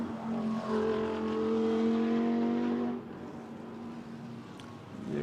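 GT race cars at the Spa-Francorchamps circuit during 24 Hours of Spa pre-qualifying: a steady, fairly close engine drone with rising whine that eases and fades after about three seconds, leaving quieter distant engine noise.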